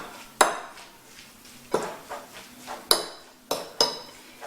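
A potato and corn starch mixture stirred in a bowl, with a utensil clinking sharply against the bowl in a loose, uneven rhythm about every half second to second, close by and with no talk.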